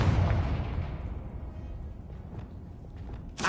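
A Confringo spell explosion in a Hogwarts video game: a loud, rumbling blast at the start that decays slowly into a fading roar, followed by a sharp burst at the end.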